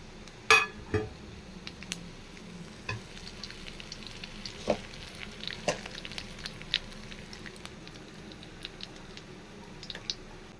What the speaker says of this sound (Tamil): நல்லெண்ணெய் குழம்பு கிராம்பு அன்னாச்சிப்பூ எல்லாம் போட்டு தாளிச்சுக்குவோம்